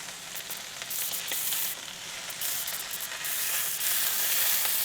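Tri tip steak sears in a hot pan, a steady loud sizzle with crackling spits that builds slightly over time, no voices.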